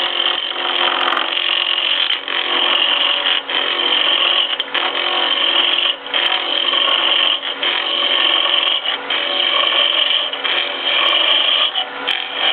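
A wood lathe at 2,600 RPM hums steadily while a chisel cuts a finial, the turning tool giving a continuous loud scraping whir with slight pulsing as the cut shifts, close and with no talk.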